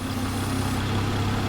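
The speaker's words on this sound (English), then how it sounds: "I'm gonna go ahead and leave the engine running, put the vehicle in neutral" A vehicle engine idles steadily in neutral, a constant low rumble with a faint hum, unbroken and close by, with no speech over it.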